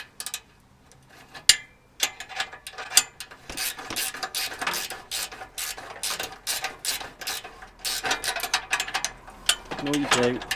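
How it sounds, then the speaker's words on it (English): A 17 mm ratchet clicks in rapid bursts while tightening exhaust header bolts on a Toyota GT86 / Subaru BRZ, metallic ratcheting close up with brief pauses between strokes. "with the Halfords toolkit, you could have a 17 ratchet."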